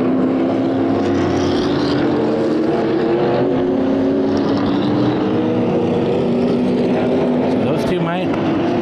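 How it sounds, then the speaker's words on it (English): Late model race cars roar around Havasu 95 Speedway in a sustained, loud engine drone with shifting pitch as cars pass, under continuous commentary. "Matt Frady in the number 40 machine. Up on that high side"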